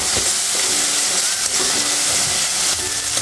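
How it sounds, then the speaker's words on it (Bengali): Chilli spice paste stirred and fried in oil for a fish curry hisses and sizzles loudly and continuously at close range, with faint scrapes of the spoon under the steady frying. "এটা দিয়ে আমি ভালো করে নেড়েচেড়ে কষিয়ে নেব।"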